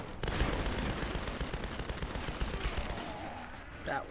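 Rapid gunfire in the video game Tomb Raider (2013), a dense, continuous burst of loud automatic shots that rattles for about three seconds and then tapers off into quieter noise.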